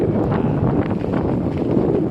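Steady wind roars and buffets the microphone while riding a Cyrusher Grace electric bike in a crosswind, a continuous low rumble with no talk.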